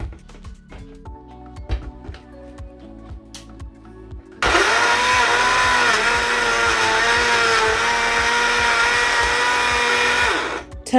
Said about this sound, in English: I've turned to my trusted little blender and I'm going to pulse it to the desired size